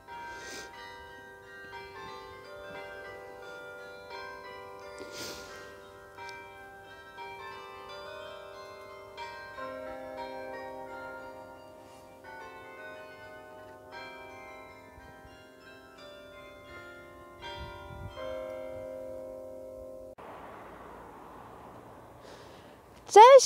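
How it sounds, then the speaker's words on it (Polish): Distant church bells toll softly in the background in Sluis, Netherlands, near the Belgian border, at Christmastime, a steady wash of ringing tones, with a brief louder noise at the end. "W tle słyszymy dzwony."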